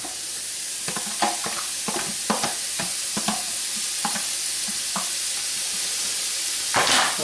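Chopped onions, leeks, carrots and garlic sweat in a pressure cooker with a steady, bright sizzle. A spoon stirs and scrapes the pot in a string of sharp clacks, with no voices.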